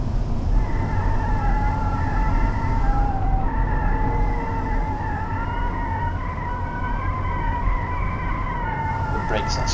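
Tires squeal steadily over a constant engine drone in a racing game, with brakes of a 1970s car screeching at length through the whole stretch while approaching Wankel.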